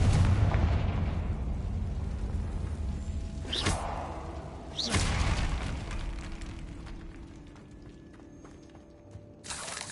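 Confringo spell blasts from Hogwarts Legacy: a roaring explosive rumble at the start, then two sharp bursts a second apart, a lingering low rumble, and a final burst at the end.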